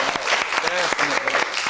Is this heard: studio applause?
yes